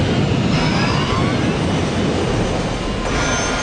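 Airliner jet engines roar loud and steady, one spooling up while the other runs in reverse thrust, a dense continuous rush of noise that fills the whole moment without letup.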